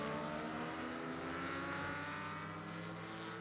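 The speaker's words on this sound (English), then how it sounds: "GT3 Cup machines, or the GT3 cars," Porsche GT3 Cup race cars roar past at Spring Mountain in a steady, continuous engine drone with no speech, loud and sustained throughout, several machines blending together.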